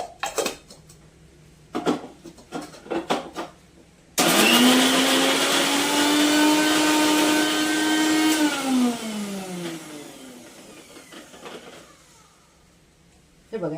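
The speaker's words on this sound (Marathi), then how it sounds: "आधी हे मिक्सरला बारीक करून घेऊया." A mixer grinder whirs loudly for about six seconds as it grinds gulkand with fennel seeds and cardamom powder for a paan shot drink, its pitch rising then falling as it winds down, with brief kitchen clatter and voices before and after.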